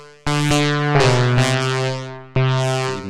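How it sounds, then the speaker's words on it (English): A gritty saw-wave synth played in Bitwig through a fully wet delay: loud, sustained harmonic notes struck in a few sharp, separate hits, each ringing out and smearing into the next, with no voices. "So something more sawy, maybe a little gnarly."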